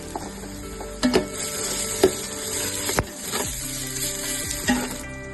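Ginger garlic paste fries in a pot of browned onions for mutton dum biryani, with a steady, close sizzle broken by a few sharp clinks of a stirring spoon.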